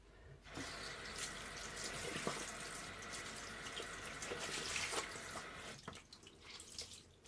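Tap water runs steadily into a bathroom sink for a face rinse after a Pore Chores mask, a continuous splashing hiss broken by a short pause near the end, fairly close and alone.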